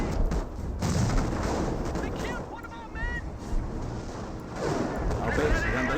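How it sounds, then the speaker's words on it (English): Artillery explosions and gunfire rumble through a Company of Heroes battle, a dense, continuous barrage with low booms layered under talking that runs through most of the stretch. "I hear a bunch of explosions."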